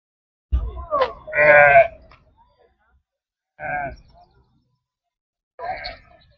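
A few separate sheep bleats at a livestock market, close and fairly loud, with short pauses of quiet between them.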